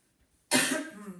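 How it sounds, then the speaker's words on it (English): A single sharp cough bursts out close to the mic in a quiet room during a yoga class, loud at first and then trailing off over about a second. "Sorry about all the coughing."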